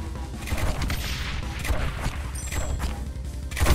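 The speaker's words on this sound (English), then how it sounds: "we got 3 mortars all within range of this alley" Mortar towers firing in the tower-defense roguelike Rogue Tower, a dense run of booming and crashing blasts that overlap continuously, loud and close throughout with a stronger burst near the end.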